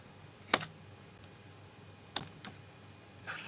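A few sharp computer keyboard keystrokes, isolated clicks separated by pauses, close and quiet in a still room with no talking.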